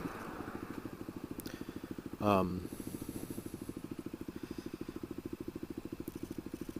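A small motorcycle is ridden, its engine producing a steady, rapid thrumming pulse that continues throughout at moderate level, with a brief louder burst partway through.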